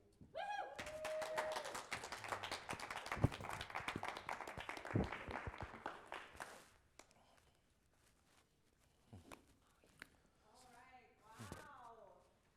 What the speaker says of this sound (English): Let's give him one more round of applause, everyone, and everyone online